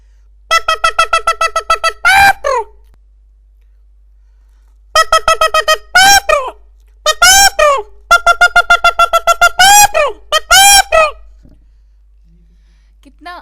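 A voice imitates the call of a bird known locally as tatta tibli in rapid, chattering bursts of repeated notes, several phrases separated by short pauses, loud and close.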